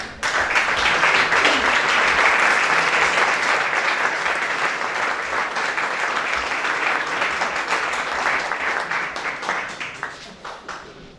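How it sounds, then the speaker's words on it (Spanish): Loud, sustained applause from a large audience at a Spanish PSOE political meeting, a dense wash of clapping that holds steady for several seconds and then gradually thins toward the end. "a las que les vamos a dar un fuerte aplauso a las tres"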